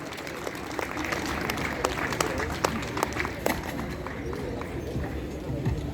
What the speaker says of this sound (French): on encourage Marie, on peut l'applaudir.